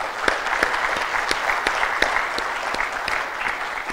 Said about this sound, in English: let's give a round of applause again for everybody that makes BSidesAugusta possible